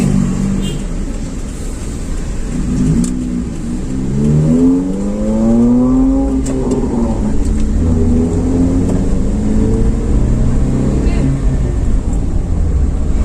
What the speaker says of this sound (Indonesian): Ini banyak sekali truk yang lewat di sini.